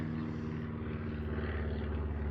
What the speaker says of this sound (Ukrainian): тут якісь самоліти літають